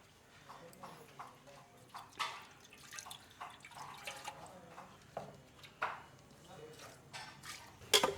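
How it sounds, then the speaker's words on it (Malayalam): A little water is poured into a pot of buffalo leg being cooked for a Christmas dish in a home kitchen. Faint trickles and irregular drips are heard close by, with quiet talking around them. "ഇച്ചിരി വെള്ളം ഒഴിച്ച് റെഡിയാക്കി ഒന്ന്"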